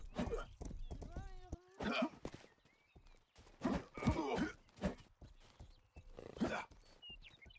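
A horse's hooves clatter intermittently in the medieval video game Rustler, mixed with bursts of voice-like calls and whinnying sounds at close range.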